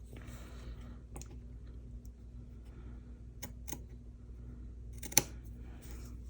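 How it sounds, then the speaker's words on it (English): Quiet, scattered snips of scissors cutting, a few sharp clicks spaced apart against soft background hiss. "So let me grab my scissors."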